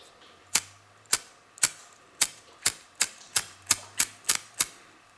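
A Zippo lighter, blackened with soot and failing to light, has its flint wheel struck eleven times in a steady rhythm, each strike a sharp, close rasping click with no flame catching and no voices.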